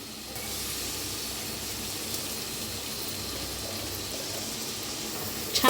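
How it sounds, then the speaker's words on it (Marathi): Onion frying with ginger and green chili paste for chole bhature, a steady close hiss and sizzle of hot oil that holds evenly, ending in a brief clatter. "छान असं भाजून घेऊया कांद्याला."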